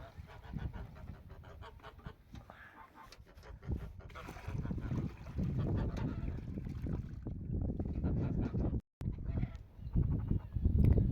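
Geese honk and call near a small handmade backyard pond, their loud, overlapping cries close by and broken by a brief gap, with rustling and handling noise around them.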